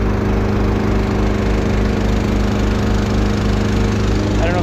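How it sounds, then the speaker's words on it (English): A small engine-driven pump on a 4420 sprayer runs steadily and loudly up close, a constant droning hum with a regular pulsing beat throughout. "I already got my little pump running. I fire up this pump, put my valves, start sending her all up."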